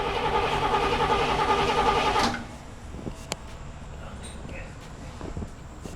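A 1968 Cadillac Coupe de Ville runs for its first start in five years, its loud engine cranking and running before cutting out abruptly, then quiet clicks and low rumble while people talk nearby.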